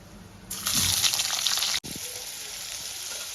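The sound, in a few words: paneer lightly frying in leftover oil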